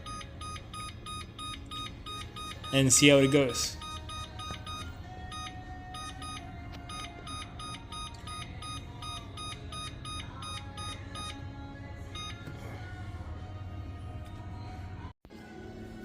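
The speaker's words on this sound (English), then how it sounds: "So I'm setting the timer to 34" A kitchen timer, set while baking brownies, gives a short cluster of loud beeps early on, then a steady run of faint repeating electronic tones over a low background hum, with a brief spoken remark.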